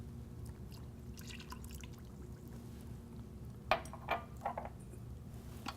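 Milk poured into a bowl of eggs while mixing a batter in a home kitchen, heard as a few soft splashing drips and trickles over a steady low room hum.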